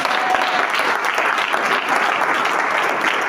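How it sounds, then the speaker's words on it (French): An audience bursts into loud, sustained applause and cheering, a thick, even roar of clapping that carries without pause from start to finish. "Est-ce qu'on peut acclamer très fort?"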